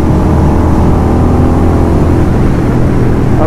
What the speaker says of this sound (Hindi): बाकी एक बार हम बाइक को खींच के भी देखते हैं।